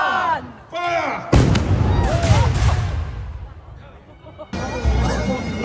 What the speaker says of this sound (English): Mass volley fire, so back to back